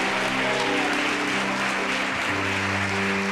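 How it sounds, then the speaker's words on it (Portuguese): A church congregation keeps up steady, dense applause under sustained musical tones from an organ or keyboard, the clapping continuous and moderately loud throughout. "E a igreja em concordância dá uma salva de palmas"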